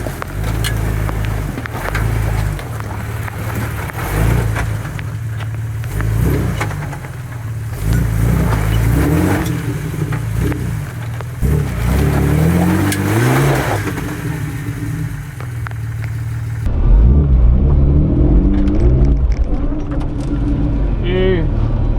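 A car driven offroad on 20 psi tyres, its engine revving and labouring over dirt terrain with shifting pitch throughout, close and loud, while a person talks over it.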